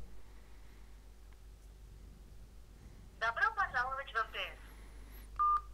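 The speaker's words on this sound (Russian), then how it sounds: "совершим парочку голосовых вызовов э, с обеих сим-карт" A voice call is placed on a ZTE Blade A5 Pro smartphone: a quick run of keypad dialing tones plays over faint room hiss, followed by a short electronic beep.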